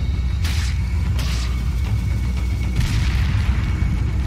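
Repeated booming video game explosions from Resident Evil 4 HD with a constant low rumble underneath, loud and dense, a few sharper blasts standing out.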